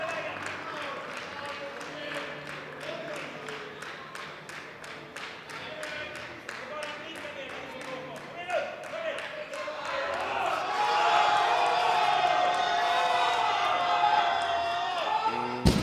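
Rhythmic clapping from the audience at a classic powerlifting meet builds into loud cheering and shouts of support for a lifter, with a commentator talking over the noise.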